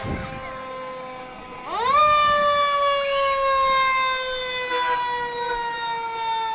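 A fire engine siren rises sharply and holds a loud, steady wail as the truck rolls through a street parade at the Forest Festival, close and dominant.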